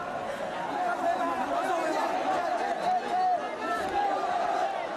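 A growing crowd of protesters and monks fills a Yangon street during the 2007 crackdown, a steady murmur of many voices and chatter close around, unbroken for the whole stretch.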